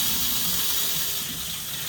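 Hot water running hard from a tap fed through a Worcester boiler, a steady loud broadband gush of flowing water with no talk, continuous for the whole moment.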